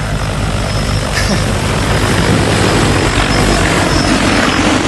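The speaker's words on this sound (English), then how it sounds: "This is a very unique drone. It flies upside down." An agricultural drone spreading potassium fertilizer flies overhead with a loud, steady broadband rotor roar that fills the whole stretch without pause.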